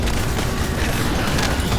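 A drone blows up in The First Descendant, a dense, booming blast of game explosion noise that stays loud and sustained throughout, with crackling bursts layered over a heavy low rumble.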